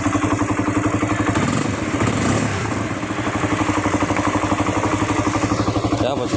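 A Honda CBR 150 motorcycle with a starting fault runs at idle close by, a steady, even, thumping engine pulse that holds throughout with slight variation.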